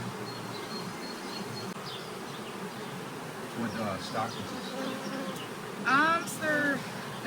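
Honey bees buzz around a hive, a steady low drone with individual bees passing nearby; a voice speaks briefly and other people talk faintly in the background.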